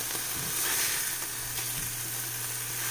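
Wild boar burgers sizzle in a frying pan with a steady, even hiss and crackle throughout, and no one speaks.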